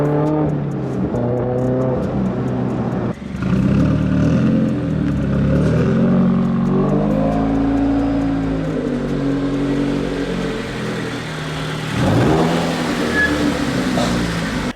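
A Toyota GR86 with a loud straight-pipe AWE race aftermarket exhaust revs repeatedly, close and loud, with rising and falling engine pitch and a deep rasp over nearly fifteen seconds, with a sharp blip near the middle and another toward the end.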